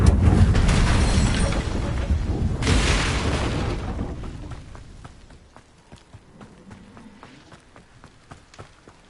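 A Confringo fire spell in Hogwarts Legacy detonates in a loud rumbling explosion, a second burst following, then fading into quieter scattered clicks and footsteps.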